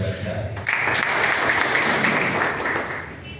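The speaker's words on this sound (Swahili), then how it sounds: "Makofi kwa daktari." Applause for a doctor at a church men's breakfast, a steady crowd clapping that swells after a brief pause and then holds loud and dense for about three seconds before easing off, with voices mixed into it.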